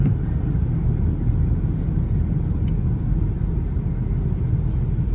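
A car engine warming up, running steadily for about ten minutes under a dark sky; a continuous low rumble holds at an even level throughout with no voices.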